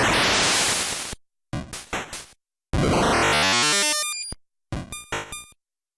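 NES noise channel percussion: harsh static bursts, a long hiss, quick choppy hits and a pitched metallic buzz, in short separated groups with silence between.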